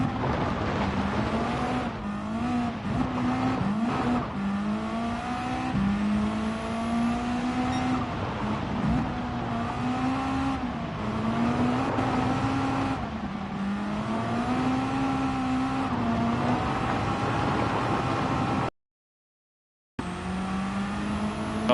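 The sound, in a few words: race car engine and blow-off valve in the video game Gran Turismo 7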